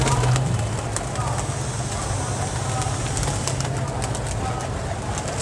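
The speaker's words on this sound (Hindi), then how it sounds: "और शकील भाई से कहना, जब ये कबूतर नीचे आते हैं ना तो बड़ा ही मज़ा आता है, बड़ा इंजॉय है इनकी आवाज़, पड़ों की आवाज़, खनखनाहट" Pigeons landing at a trap loft, with soft cooing and wing flaps over a steady background hum; the sounds are moderate and continuous rather than distinct single events.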